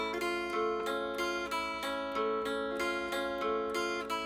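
A mountain dulcimer rings out an augmented chord, strummed repeatedly in a steady rhythm with bright metallic strings sustaining between strokes, close and alone without any voice.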